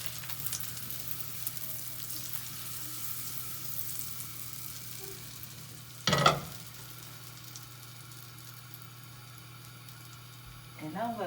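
Butter and sugar sizzling in a pan for pain perdu, a soft, steady frying hiss close by, broken by a brief clatter of a utensil partway through and light scraping near the end.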